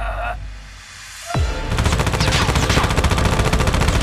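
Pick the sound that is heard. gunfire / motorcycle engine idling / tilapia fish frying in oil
gunfire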